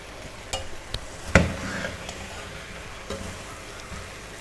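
Chopped okra (bhindi) tipped into a hot pan for dhaba-style masala bhindi, with one sharp clatter and burst of sizzle, then quieter stirring and faint frying in the background.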